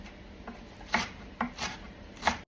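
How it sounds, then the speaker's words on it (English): Knife chopping fresh cilantro on a board, a few separate crisp chops spaced unevenly over a quiet kitchen background, close and moderately loud. "So just cut a little bit at the end and start chopping."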